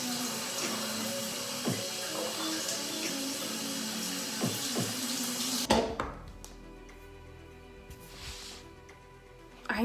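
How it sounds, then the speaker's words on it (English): Running water rinsing burgundy hair dye out of hair at home, a steady close rush of splashing water that cuts off partway, leaving faint drips and room sound. "I'm gonna go ahead and rinse it out."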